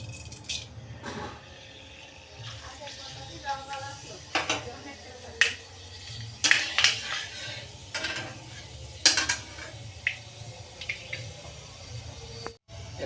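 Fenugreek seeds drop into hot mustard oil in a kitchen pan and crackle and pop in short sharp bursts that come and go irregularly, with a soft background hiss and faint kitchen clatter.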